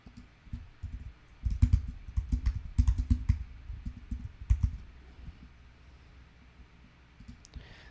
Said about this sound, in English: I wanted to type that text in